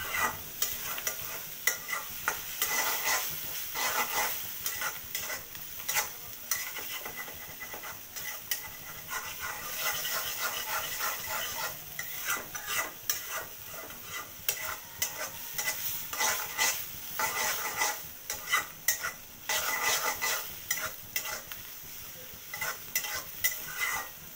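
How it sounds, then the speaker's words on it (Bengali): Fish roe sizzles in a hot wok while a utensil scrapes and stirs continuously, the frying hiss steady underneath the irregular stirring strokes. "মাছের ডিমটা একটু ভাজা ভাজা করব"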